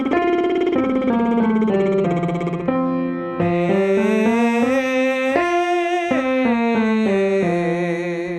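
A singer performs a lip-trill exercise, buzzing the lips through a continuous pitched line that steps and skips upward toward the upper passaggio, sustained and close without pause for about eight seconds.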